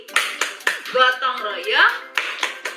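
Children in a classroom clap out the Tepuk PPK chant, sharp rhythmic hand claps in short bursts alternating with their sung chanting voices.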